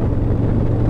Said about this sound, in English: 2-in-1, the 110 engine. I think sounds good,